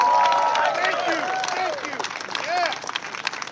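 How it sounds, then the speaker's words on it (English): A crowd at a Washington State Republican political rally applauds with cheers and voices calling out. Loud at the start, the clapping eases and flares briefly again before thinning out. "Another round of applause for Ed Orcutt."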